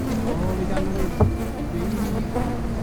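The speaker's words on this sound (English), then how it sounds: "more just like annoying flies buzzing around your head" Flies buzzing steadily around someone's head outdoors near a canoe, a continuous droning hum with one brief louder pass close by, no talk.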